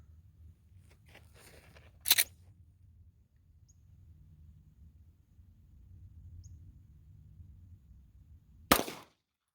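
Two sharp 9mm pistol shots from an S&W SD9VE firing Winchester Ranger T-series 147 grain rounds, each a single crisp crack, heard faintly at a distance with quiet low rumble in between.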